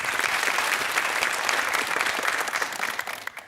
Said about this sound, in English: Nice to see you applauding each other